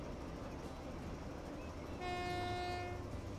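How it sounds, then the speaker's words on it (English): Train rolling along in the game Transport Fever 2 with a continuous rumble, then a loud horn blast of about a second partway through. "There's the other train ready to go."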